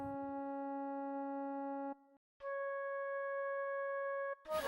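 A phone's electronic tone after a call is hung up, two long steady beeps separated by a short gap, clear and fairly quiet with no talk over them.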